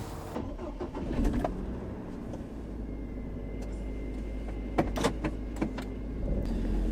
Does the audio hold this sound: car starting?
yes